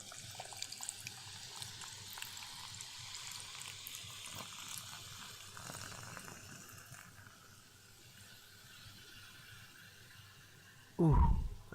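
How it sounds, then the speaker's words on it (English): A canned drink pours into a glass with a fizzy, trickling flow that fades into a quiet settling of bubbles. A sudden knock or thump comes at the end. "Now Here comes the pour."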